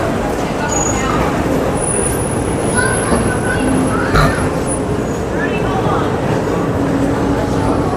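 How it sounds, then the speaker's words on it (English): A Walt Disney World monorail train pulls into a station, a steady rumble with a faint high wheel squeal drawn out over several seconds, heard at moderate distance amid general crowd noise. "let me show you the monorail coming in"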